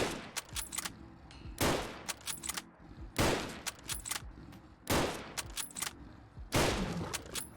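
A bolt-action WW2 rifle with an upgraded receiver and .303 chambering fires in the Fallout 4 video game, five loud, sharp reports spaced about every one and a half seconds, each followed by bolt-cycling clicks, with no talking.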